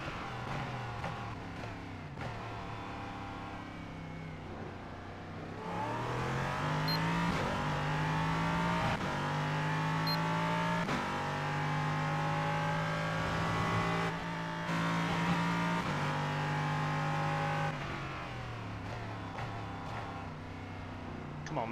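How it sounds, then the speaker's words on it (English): An LMP3 prototype race car engine in the iRacing sim, droning loud and steady with rising and falling revs through gear changes, running continuously and alone without any voices. "Probably driving my second most favorite car on iRacing, this LMP3."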